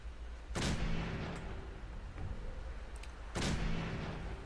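A companion character's gun fires in the Fallout 4 video game: two sharp, booming shots about three seconds apart, each fading into a brief rumble.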